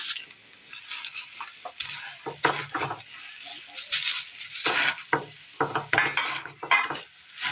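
A spoon scrapes and stirs fried flattened rice around a frying pan with a steady, rhythmic clatter and a light sizzle underneath.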